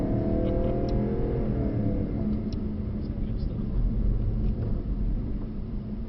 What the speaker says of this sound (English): Does this car not pop and crackle? Oh, it does.